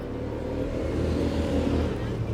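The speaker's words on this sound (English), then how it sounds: "Traffic in the background" Urban road traffic in a desert city, a steady low rumble of cars passing at a distance, continuous and broad, with no distinct pass-by peaks.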